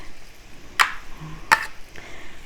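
Steak is tossed with cayenne pepper seasoning for a Philly cheesesteak, with two sharp, close clattering knocks about a second apart over a faint background sizzle and a softer third tap.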